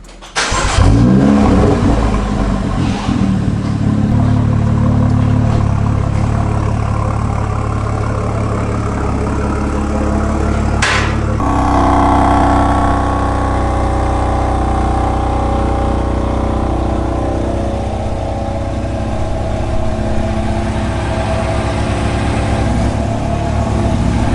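BMW F30 335i with N55 engine pulling away on a test drive, engine revving and accelerating loudly near the microphone, then settling into a steady cruising drone with a brief shift midway, no talk.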